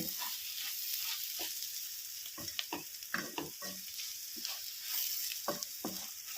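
Ivy gourd and onion masala curry fries in a non-stick pan, a steady close sizzle broken by scattered scraping and stirring clicks of a spoon.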